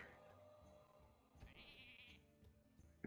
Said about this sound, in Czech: Ovečka.